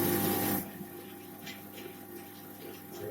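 A band saw switched on and left idling with no cut being made, heard as a steady mechanical hum and whir at moderate level after a brief louder burst at the start.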